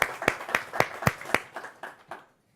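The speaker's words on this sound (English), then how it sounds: "let's give him a round of applause" A small audience at a 2018 NOAC training session on LodgeMaster claps about ten distinct, fairly close beats. The sparse applause slows and fades out within two and a half seconds.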